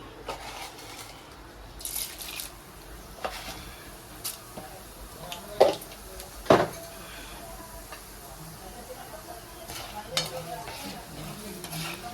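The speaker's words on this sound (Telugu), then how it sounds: "ఇంకా నూనెలో ఇప్పుడు తాలింపు వేసేసుకొని ఉల్లిపాయలు వేస్తాను" Steady sizzling of tempering seeds frying in hot oil, with occasional stirring clinks and pops standing out.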